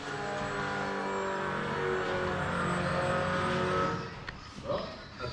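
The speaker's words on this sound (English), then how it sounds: "Fuel pump, at least. Is that front one running? Sounds like it." A car's fuel pump runs steadily on a project car being brought to life, a constant mechanical hum with tonal bands that drops off near the end, leaving a few faint clicks and handling noises.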